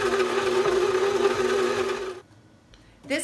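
An electric mixer whirs through butterscotch cookie dough with a steady buzzing hum for about two seconds, then cuts off into near quiet before a brief voice comes in at the end.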